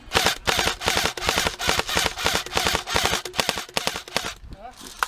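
Airsoft guns fire during an outdoor game, rapid bursts of sharp, close cracking shots in quick rhythmic strings that pause briefly and resume, stopping near the end.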